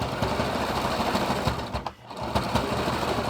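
Sewing machine back stitching a fabric mask, rapid close mechanical chatter that pauses briefly in the middle before running on; no talking.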